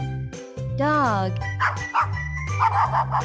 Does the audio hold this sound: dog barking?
yes